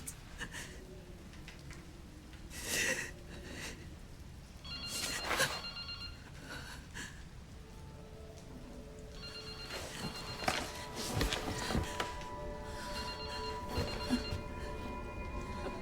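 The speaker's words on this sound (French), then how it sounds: "Tu vas le prendre ce téléphone?" A telephone rings repeatedly inside the survival horror game Resident Evil Requiem, clear bursts of ringing over a murky backdrop of ambient music and game noise, with brief spoken lines around it.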